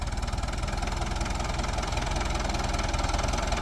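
A New Holland TD90 tractor engine straining under load with a steady, dense diesel chug and knocking vibration, loud and close, constant throughout with no voices.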